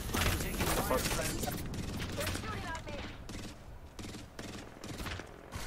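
Sustained bursts of video game gunfire, loud and close at first, then breaking into separate sharp shots and short volleys, with voices talking over part of it.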